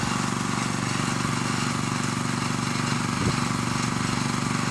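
Air compressor on a 1979 Ford tilt bed toy hauler motorhome, running steadily while the bed tilts, a close, loud, rapid pulsing chug with no break and no talking.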